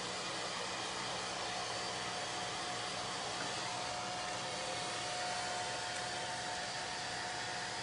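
A hair dryer blows steadily on a Chalk Couture transfer, a continuous broadband rushing hum that holds unchanged throughout, fairly faint and with no voices.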